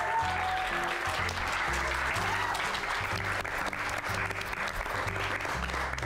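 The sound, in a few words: applause for quiz bee champion school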